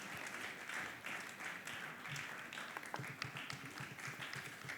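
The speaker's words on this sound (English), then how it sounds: "please clap for her as she comes" A conference audience claps as a guest comes up to join the host on stage, a moderate, steady patter of many hands sounding somewhat distant.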